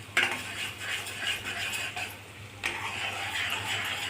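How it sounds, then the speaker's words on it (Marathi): Ginger-garlic paste stir-fried in oil in a home kitchen, a soft steady sizzle with intermittent metal spoon scrapes and clinks against the pan. "तेलात छान परतून घेणे आलं लसणाची पेस्ट।"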